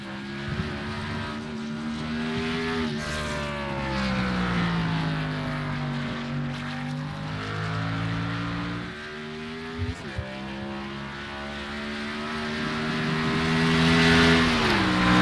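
Stock car in a sim racing game, heard onboard as its engine drones loudly and continuously, pitch sweeping up and down through gear changes and corners, with no talking.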